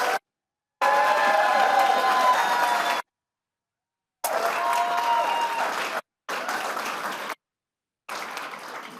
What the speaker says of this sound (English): Let's give one more round of applause to all of our winners.